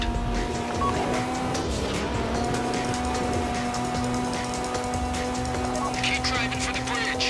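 Car driving in the video game GTA Online during a heist getaway, a steady engine drone with road noise and a brief tire squeal, while voices talk over it.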